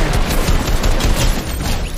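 Fortnite gunfire erupts in a dense, loud burst of overlapping booming shots that fill the whole moment without a break.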